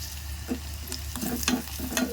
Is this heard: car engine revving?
no